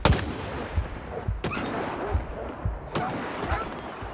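Rifle gunfire in a video game: sharp shots crack out roughly every three-quarters of a second amid a steady low rumble of distant battle noise, fairly loud and close, with no talk.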